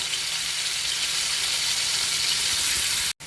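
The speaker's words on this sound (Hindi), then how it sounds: "अब मैरिनेट किया हुआ चिकन हम इसमें डालते जाएंगे। हमें चिकन को शैलो फ्राई करना है" Marinated chicken pieces shallow frying in oil in a pan, a steady, even sizzle holding at close range for about three seconds before a brief dropout near the end.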